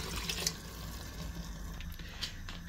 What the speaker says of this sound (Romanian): Voi adăuga apă